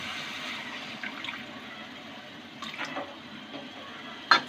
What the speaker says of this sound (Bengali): এবার দিয়ে দিব সামান্য একটু জল।